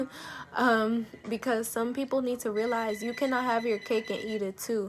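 A phone rings repeatedly in the background, a steady ringing tone that persists under a person talking continuously.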